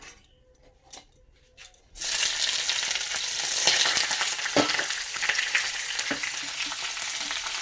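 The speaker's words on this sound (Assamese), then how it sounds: "তো এইখিনি হালকা ব্ৰাউন হোৱালৈকে মই ভাজি ল'ম।" A pan bursts into a loud, steady frying sizzle after a quiet start with a few light clinks, with stirring scrapes throughout, close and without talk.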